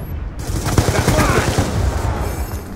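KSG shotgun fire in the video game Black Ops 2 comes through as loud, close gunfire, a dense run of rapid shots that lasts most of the moment before fading.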